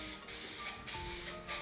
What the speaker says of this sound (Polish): Zaczniemy od zwykłego czarnego sprayu